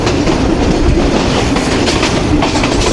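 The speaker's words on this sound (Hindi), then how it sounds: "ये ठीक 12:30 पे अराइवल हो रहा है 18 टाउन मिलत एक्सप्रेस का मलकवाल जंक्शन पर।" Millat Express pulling into Malakwal Junction, a steady loud rumble of rolling rail cars with rhythmic clickety-clack of wheels over joints, continuous and close, no voices.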